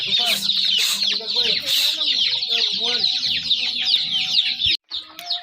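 Chickens cluck and chatter close by in a busy flock, with several overlapping calls and a few louder squawks, over a steady high-pitched background.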